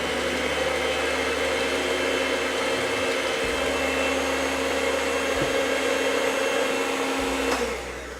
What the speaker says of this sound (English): And then start the mixer again.